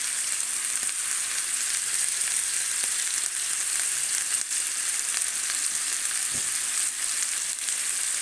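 Onions frying in a pan while sausage is being cooked, giving a steady, close, even hiss of sizzling oil that runs the whole time with no voices.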